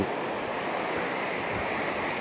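Water released from the Brahmani dam rushes along an irrigation canal as a continuous, loud, broadband roar with no voices over it.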